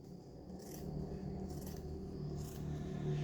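Scissors cut through a small piece of fabric for a doorstop craft, giving soft, repeated snipping and rustling strokes, close and fairly quiet, with no talking.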